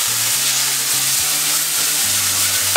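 A hamburger patty fries in hot oil in a pan, giving a loud, steady, close-up sizzle with a continuous crackling hiss throughout.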